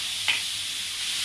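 Steady, close sizzling hiss of spring onion, carrot, cabbage, tomato, capsicum, beetroot and coriander stir-frying in a pan over a medium flame, with one brief scrape of stirring near the start.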